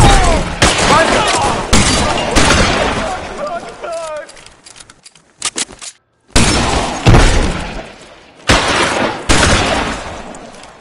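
Video game shootout at a surrounded bank, with loud bursts of rapid gunfire and booming shotgun blasts, some glass-like crashes, and a short lull with scattered shots and voices before heavy firing resumes.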